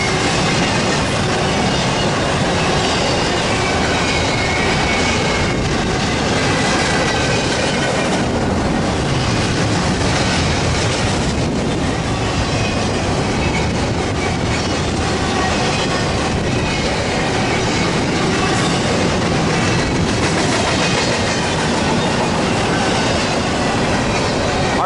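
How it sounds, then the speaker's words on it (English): A westbound Q freight train rolls past near Daggett, a loud, continuous rumble and roar of rail cars with clickety-clack wheel beats and faint squeals sustained throughout, close by and without talk. "there goes that westbound Q train west of Daggett"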